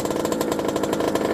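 A 1989 Kawasaki KX80 two-stroke dirt bike engine warms up, its buzzy, raspy note running steady and loud throughout with a fast pulsing rhythm, close by and with no voices.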